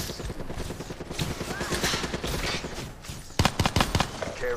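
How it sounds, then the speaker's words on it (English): Video game gunfire in an online shooter, a dense stretch of overlapping shots and fusillade with distinct sharp bursts near the end, loud and close. "I heard shots firing this way."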